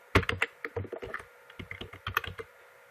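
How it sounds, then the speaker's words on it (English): Quick, uneven keystrokes on a computer keyboard as a password is typed, a close, dry burst of clicky taps over about two and a half seconds with no talking. "Then need to type password."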